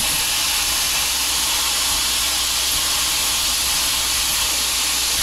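A plasma cutter cuts through metal, a loud continuous broadband hiss holding steady throughout with no breaks, close by, with no talk.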